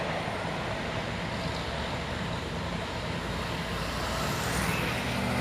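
A heavily loaded trailer truck labouring up a steep hill, a dense continuous engine roar with road noise, steady and fairly loud throughout.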